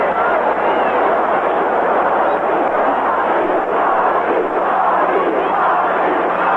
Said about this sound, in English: Crowd chanting, Ozzie, Ozzie.